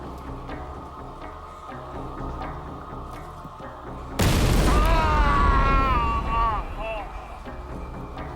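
A sudden deep boom from a bomb explosion in a university computing department's coffee room bursts in partway through, loud and rumbling, followed by a lingering ringing tail, with low mechanical background noise before it.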